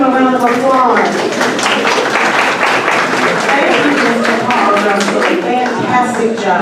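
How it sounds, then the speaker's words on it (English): Sustained audience applause at a community meeting, a dense even wash of many hands clapping from start to finish, with some voices mixed into the crowd noise. "Let's give them a round of applause."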